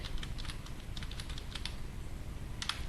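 Steady typing on a computer keyboard while entering spreadsheet data, a quick run of light plastic key clicks with a few sharper taps, close and continuous, no talking.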